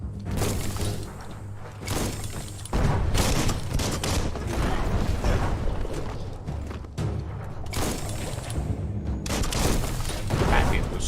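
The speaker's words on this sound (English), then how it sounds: "That's a bomb lobber." Bomb lobber explosions in the video game Biomutant, a dense run of loud booms and crackling blasts packed close together across the whole stretch, with a voice talking over them.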